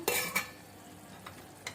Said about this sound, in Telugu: ఈ పచ్చిమిర్చి పేస్ట్ని ఇందులో వేసి మొత్తం కలిపి పెట్టుకున్నాము.